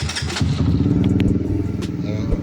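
A Rusi Flash 150i motorcycle engine idling nearby, loud and steady with a rhythmic low putter throughout.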